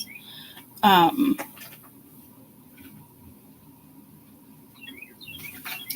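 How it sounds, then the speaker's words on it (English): A bird calls outdoors in a few short, high chirps near the start and again near the end, with a louder, fuller burst in between, over a quiet, steady background. "So I don't know what type of bird it is."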